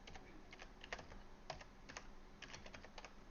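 Clusters of crisp keystrokes on a computer keyboard, close and moderately quiet, coming in short uneven bursts with brief pauses between them and no talking.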